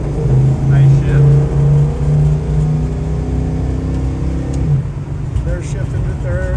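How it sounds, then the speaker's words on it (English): Engine of a 1973 Plymouth Cuda with carbureted induction, pulling steadily under acceleration, its tone climbing and then dropping as the gears shift, heard from inside the car in cold air over a constant road drone. "Make sure to show you how the tranny shifts"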